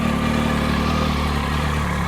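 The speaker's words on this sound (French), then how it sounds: "laisser la moto chauffer" A motorcycle idles steadily as it warms up after a jump start from a battery booster. The low, even engine drone holds constant and close throughout, with no voices.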